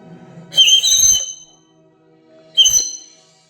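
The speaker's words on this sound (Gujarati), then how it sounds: "એક બટન છે ને એને દબાવ્યા રાખીએ ને તો જ સારું વાગે તો સીટી વાગે" Toy whistle sounded by holding down a button, two shrill high-pitched toots, a longer one followed after a pause by a shorter one, close and loud.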